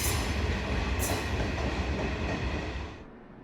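Overnight sleeper train from Malmö pulling into a Stockholm station platform, a steady loud rumble of rolling wagons with brief hiss bursts, fading slightly at the end.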